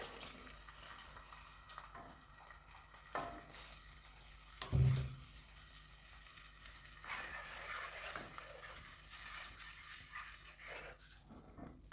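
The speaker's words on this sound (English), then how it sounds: "I'm going to add in my pepper mix." Pepper mix frying in a pot with sautéed onions for goat meat jollof rice, a steady soft sizzle with occasional stirring and one brief louder knock midway.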